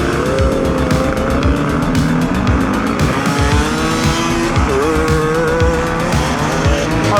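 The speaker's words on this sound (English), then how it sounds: "we are off on the brand new Suzuki DR-Z400, or DR-Z4S I should say" A new Suzuki DR-Z4S (DR-Z400) dirt bike pulls away from a start gate, its engine loud and close, revving up and shifting repeatedly with no talk over it.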